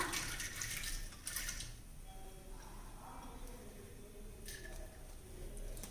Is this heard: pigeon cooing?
no